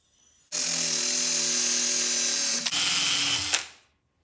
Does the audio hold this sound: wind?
no